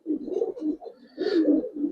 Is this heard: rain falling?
no